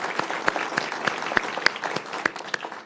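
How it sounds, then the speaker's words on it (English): An audience applauds police chiefs at the opening of a new crisis response center in Kirkland, with sharp individual claps standing out from a moderate, steady round of clapping. "Stand up and take a round of applause"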